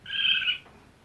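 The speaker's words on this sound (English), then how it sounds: "Here's a raccoon sound." A raccoon call from a Google Home smart speaker, a single short, high, trilling chirr lasting about half a second, clear and close, followed by quiet.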